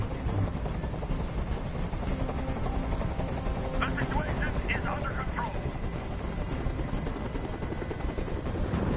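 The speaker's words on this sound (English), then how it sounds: "I can't stand that noise anymore! Tell that helicopter to get out of here!" A helicopter hovering in the video game Detroit: Become Human, a loud, steady whirring rotor drone throughout, with a voice speaking over it partway through.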